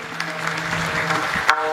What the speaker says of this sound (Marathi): जोरात टाळी वाजत सगळ्यांनी बाबांसाठी.